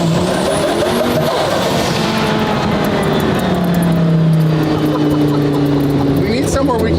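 A replica Lamborghini's engine drones loudly and steadily in second gear, its pitch sliding slowly downward as the car rolls along, with dense road and wind rumble and no break in the sound.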